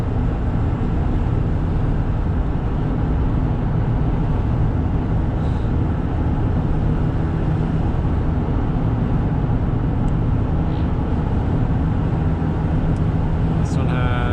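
Inside a 1995 Toyota Granvia with a 1KZ turbo diesel, a constant loud drone of engine, tyre roar and wind fills the cabin while it cruises on a freeway at about 110 km/h, with no breaks or changes.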